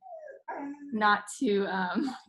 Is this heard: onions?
no